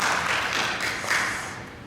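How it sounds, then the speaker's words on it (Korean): A church congregation breaks into brief applause, a dense wash of many hands clapping together, steady and moderately loud, tapering slightly toward the end. "우리 박수 한번 할까요?"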